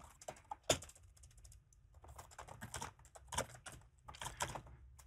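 Code being typed on a computer keyboard while writing an add function, quiet irregular clusters of key clicks with short pauses between bursts.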